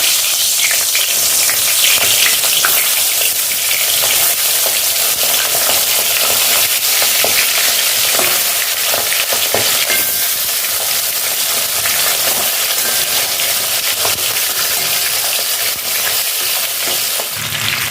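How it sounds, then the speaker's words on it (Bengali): Steady, loud sizzling of catla fish heads frying in hot oil, a dense crackling hiss that runs unbroken throughout with no talking. "তেল গরম হয়ে গেছে, এবার আমি মাথাগুলো ভেজে নেব।"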